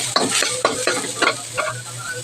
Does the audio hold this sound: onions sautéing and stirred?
yes